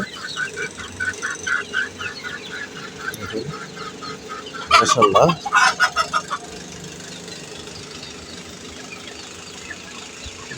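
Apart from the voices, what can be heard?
chickens clucking while eating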